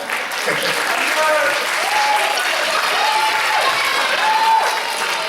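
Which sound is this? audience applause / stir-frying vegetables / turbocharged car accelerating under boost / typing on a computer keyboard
audience applause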